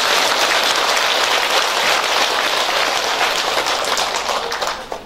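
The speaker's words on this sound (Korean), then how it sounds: "다시 한번 박수 쳐주세요." Audience applause at a book launch celebration at a Korean Buddhist temple: loud, dense, continuous clapping from a large crowd, holding steady before tapering off at the end.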